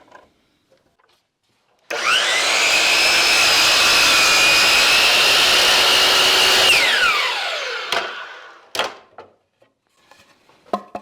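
A power saw cuts a wooden piece for a chess board. A loud, steady whine runs for about five seconds, then winds down, followed by a few sharp knocks and clunks.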